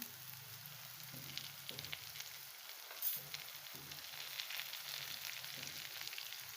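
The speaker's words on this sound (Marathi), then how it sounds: "आता मी टाकणार आहे तुम्ही बघू शकता याच्यामध्ये कडीपत्ता" Curry leaves sizzling in hot oil for a Maharashtrian pithla, a continuous crackling hiss heard close with a brief sharper pop partway through and no talking.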